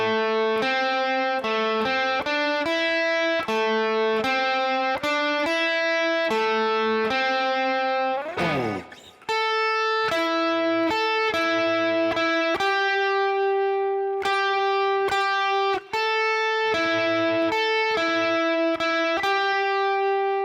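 A distorted electric guitar plays the lead solo from a song, with sustained, bending notes and a quick pitch-sliding run midway. It is loud and prominent with no talk.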